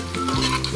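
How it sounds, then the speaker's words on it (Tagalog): Garlic sautés in a hot pan, giving a steady close sizzle and crackle of frying with a light stirring scrape, and no voices over it. "Tapos saluin natin hanggang sa naging brown ang bawang."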